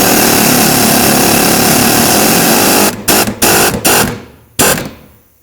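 Power tool spinning the rear shock absorber stud on a 2009-2015 Toyota Prius, a steady loud whirring drone that cuts off into several short bursts near the end.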